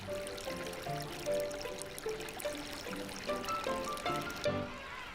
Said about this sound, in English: Countless small streams are fed by rain and glaciers.